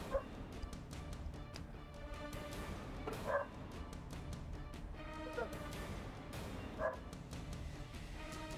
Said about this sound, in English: I'm gonna find my dog in just a second because he's going crazy.